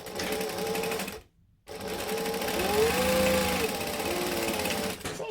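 A sewing machine stitches the two sides of a Harlot crossbody bag, a loud, close, continuous motor drone broken by one short pause before it resumes and runs on steadily.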